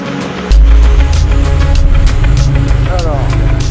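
A Chevrolet Nova's engine starts with a sudden loud rumble and keeps up a low, steady drone throughout the test drive.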